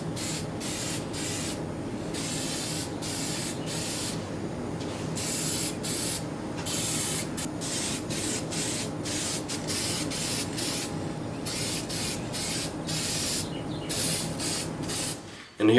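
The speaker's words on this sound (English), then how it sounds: "I'm finishing them with lacquer so they'll have a protection against the moisture." Lacquer finish is sprayed onto wooden toilet trays in a steady close hiss, broken by short pauses between passes, heard alone without talk.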